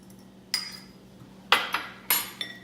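A utensil stirs beaten egg into a mixture in a bowl, producing a few sharp clinks and scrapes against the bowl spaced unevenly over a quiet background.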